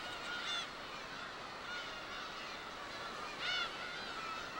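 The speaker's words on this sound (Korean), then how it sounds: "어린 새끼 매를 노리는 갈매기." A seagull attacking a young falcon in the wild gives repeated harsh, honking calls over steady wind noise, with two louder bursts standing out from the faint, distant background.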